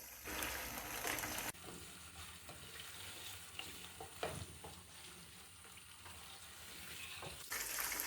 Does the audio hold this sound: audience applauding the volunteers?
no